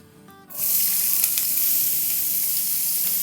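Chopped red and yellow bell peppers and onion drop into a hot pan and set off a sudden loud, steady sizzle that carries on close by with light crackles and no voices.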